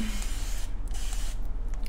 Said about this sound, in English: let me spray this so it doesn't dry out